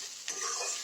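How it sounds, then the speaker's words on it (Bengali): Rice and vegetables fry in a hot wok for shrimp fried rice, a brief close burst of hissing sizzle as a spatula stirs and scrapes through the mixture. "এর উপরে এক হাতা চাল, এক হাতা সবজি এইভাবে দিয়ে নাড়াতে হবে।"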